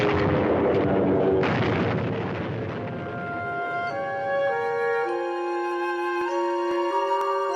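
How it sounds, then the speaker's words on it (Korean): Wartime air raid with bomber planes overhead and anti-aircraft rockets exploding, a dense loud rumble of blasts at first that thins into ringing, sustained tonal tails, with no talking. "하늘은 온통 폭격기와 국산 대공 로켓의 소음으로 폭발하고 있었다"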